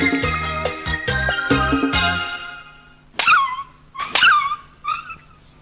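A dog yips, whimpers and barks in several sharp bursts at close range, loud and without talk, first in a rapid run of short yelps and then in a few spaced louder barks.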